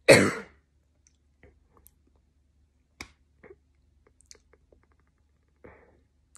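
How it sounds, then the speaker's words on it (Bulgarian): One sharp, close cough and throat clear bursts out at the start, then near silence with a few faint clicks and small rustles. "Лекувам си гърлото, кашлицата и хремата."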